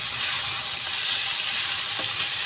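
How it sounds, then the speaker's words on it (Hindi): Chili sauce and soy sauce cook down with chicken in a pan for chicken macaroni. A steady, close bright sizzle runs throughout as the liquid reduces, with a faint stir or scrape near the end. "ये दोनों चीज़ें मैं इसमें ऐड करके इनको अच्छे तरीके से पकाऊंगी, ताकि इनके अंदर जो ये पानी सा जमा हो गया है ये खुश्क हो जाए।"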